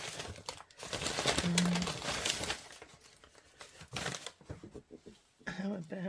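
Packets of lace trims are rummaged through at a craft table, giving close crinkling and rustling of plastic in bursts that fade and return, without talk.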